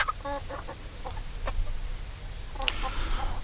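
Hens and a rooster cluck in short bursts, close by, at a chicken tractor, with steady low rumbling noise underneath and no talking.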